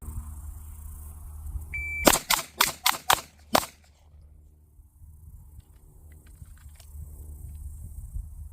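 Five sharp pistol shots crack in a quick burst during a shooting drill with a stock slide: three rapid reports, then two more, followed by a louder final shot, all fairly close with quiet range ambience around them.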